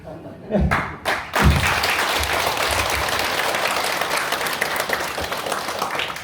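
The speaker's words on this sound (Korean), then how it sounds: "자, 박수합니다." An audience at a Buddhist lecture and training ceremony in Korea claps loudly and steadily, a dense sustained wash of many hands after a few sharp thumps at the start, with no talk over it.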